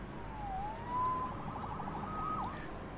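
A police siren wails in the Marvel's Spider-Man video game, a rising and falling electronic tone that sounds fairly distant over a low city rumble, with no talk over it.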